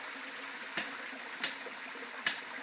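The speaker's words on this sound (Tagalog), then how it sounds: "Sa baba, ayun yung parang maliit na waterfall." A small waterfall runs as a soft, steady wash of water heard from a distance, faint and even, with three brief soft knocks nearby.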